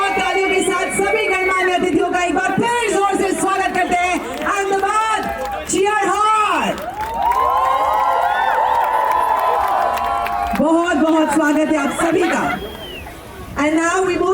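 A large crowd cheers, whoops and applauds for dignitaries at an outdoor Sabarmati riverfront event in Ahmedabad, with a loud swell of overlapping voices in the middle and an amplified host talking over much of it.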